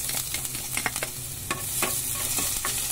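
Chopped garlic sautéing in hot oil for a simple spaghetti sauce, a steady close sizzle with repeated crackling pops and the scrape of stirring running throughout, no voices.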